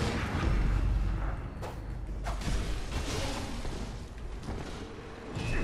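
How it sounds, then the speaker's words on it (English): Distant gunshots ring out in a Bloodborne battle scene, a few sharp cracks spread over a dense, rumbling game ambience with no talk. "Someone is shooting at us."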